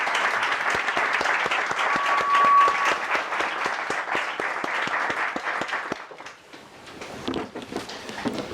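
An audience at a talk in Terrassa applauds to welcome the speaker, a dense sustained round of many hands clapping that thins out and fades toward the end.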